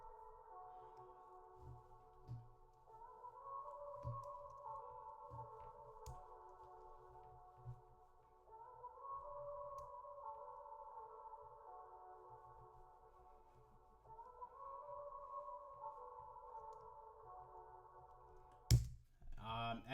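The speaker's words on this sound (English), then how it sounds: "These plugins for me are like crazy because I like to use that kind of vintage synth sound. So then when we add the chorus, it gives it that." Vintage-style synth chords with chorus from an FL Studio plugin, soft sustained swelling tones repeating in slow phrases over faint low thumps, quiet overall, ending with a short burst.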